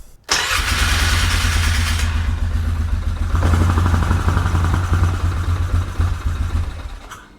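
A 1997 Polaris Sportsman 500 ATV that has been running poorly cranks and fires up, then settles into a loud, close, steady rumbling idle that holds for several seconds.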